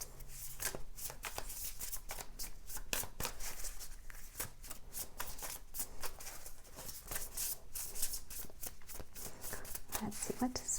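Tarot cards are shuffled by hand in a steady stream of quick, crisp riffling flicks, close up and continuous throughout.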